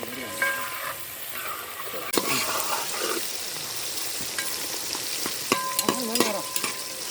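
Chicken curry frying in a pan is stirred, giving a continuous close sizzle with a few scattered scrapes and clacks of the spoon against the pan.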